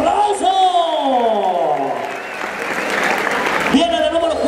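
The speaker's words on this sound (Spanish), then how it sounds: "¡Fuerte el aplauso!" Crowd at a rodeo ranch event in Ocuituco, Morelos applauds, with scattered cheering and whoops under a loud announcer's voice.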